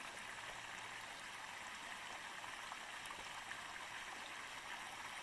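Water flows steadily in a creek in December, a soft continuous rushing and trickling with no voices, quiet and even throughout.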